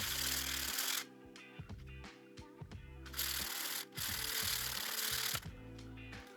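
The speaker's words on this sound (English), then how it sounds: "I finished the sides with the sanding pad, and now I'm going to the machine." A motorized sanding pad whirs and rasps against wood in repeated bursts, stopping and restarting, with a humming motor tone between passes.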